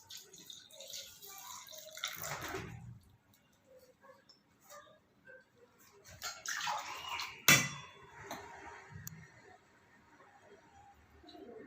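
Coconut milk poured over breadfruit (kadachakka) pieces in a cooking pot, giving soft liquid splashing and trickling in bursts with a sharp clink partway through, under quiet talk.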